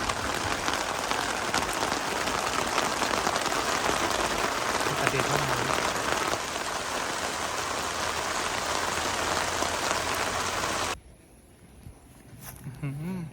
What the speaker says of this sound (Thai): ฝนตก แรงมากเราก็เลยต้องมาหลบเก็บอุปกรณ์ไว้ก่อนครับ